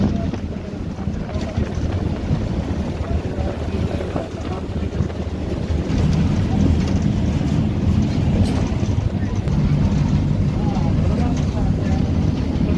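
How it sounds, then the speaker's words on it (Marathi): Ambience at Partur railway station, heard as a steady loud wash of wind and rumbling low noise across the whole stretch, with people talking in the background. "परतूरच्या रेल्वे स्टेशनवर आलेलो आहोत."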